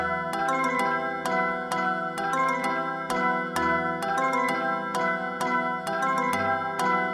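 Bright, bell-like music box synth tones play a bouncy repeating melody with a steady plucked rhythm over soft low notes, alone with no voices.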